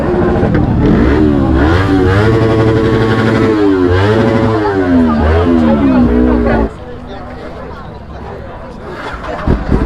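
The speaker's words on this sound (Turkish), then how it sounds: "Aha, ara gaz" Motorcycle engines rev hard with repeated throttle blips at a busy motorcycle festival in Adana, loud rising and falling harmonics over crowd babble for about seven seconds before dropping to a quieter idle and chatter.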